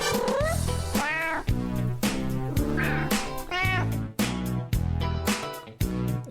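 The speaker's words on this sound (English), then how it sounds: "Why is there a World of T-Shirts cat?" A cat in a video game meows several times in a row, loud and close, over constant background game sound.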